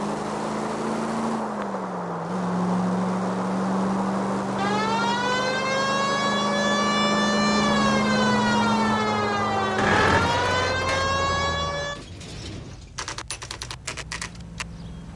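A police car siren in the video game LA Noire VR wails with rising and falling sweeps, loud and close over a steady engine hum, then cuts off, leaving scattered clicks.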